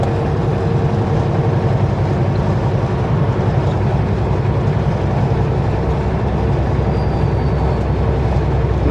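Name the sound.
freight train passing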